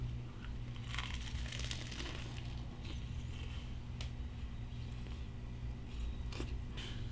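Someone bites into and chews a crunchy cordon bleu grilled cheese sandwich with ham, Swiss cheese and chicken, producing close, scattered crisp crunches and softer chewing over a quiet background.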